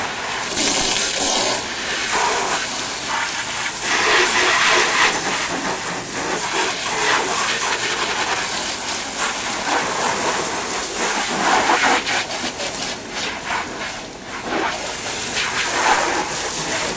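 Water rushing steadily from a hose as a car is rinsed off during a wash, a loud continuous spray lasting the whole stretch with no voices.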